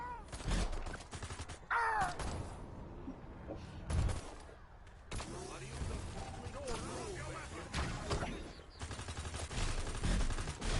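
Automatic weapon gunfire in Destroy All Humans 2, during an attack on Parliament: sharp bursts and rattling volleys crack out repeatedly among game voices and effects, fairly faint overall and mixed with talk.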